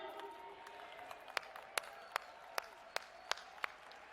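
Audience applause at a genetic counselors' conference, a thin scattering of claps with a few sharp, distinct hand claps standing out near the microphone.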